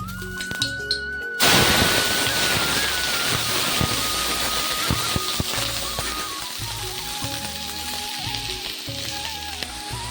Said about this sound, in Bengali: তেলটা গরম হয়ে গেছে আর এখানে আমি ভেজে নেবো আলু